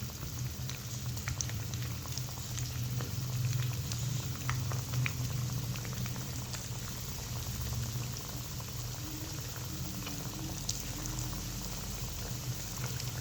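Noodle pakoras in batter deep frying in oil over a medium-low flame, a dense, steady bubbling crackle that stays even and close for the whole stretch.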